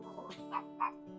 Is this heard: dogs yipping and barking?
yes